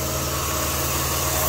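A 1990 Dodge Grand Caravan LE high-mileage engine idles steadily and loudly up close, a constant even hum with a faint rhythmic pulse.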